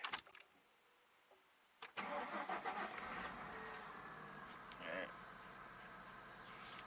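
A 1996 Ford Mustang engine, with cylinder number 4 not firing, starts after about two seconds of near silence and then runs steadily at close range. Brief voices are heard at the start, and the running sound continues uninterrupted to the end.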